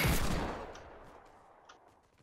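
A single loud gunshot from the Fortnite video game cracks at the start and decays over about two seconds, with a few faint further pops trailing after it.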